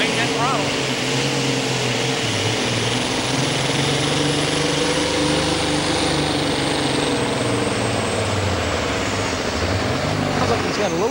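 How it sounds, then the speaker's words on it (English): A turbocharged 640-cubic-inch pulling tractor engine on a standard 426 block with one turbocharger roars loud and steady under throttle at a tractor pull, with a faint turbo drag in the tone and a voice talking over it. "he's got a little bit of a turbocharger drag or something there. You can hear it"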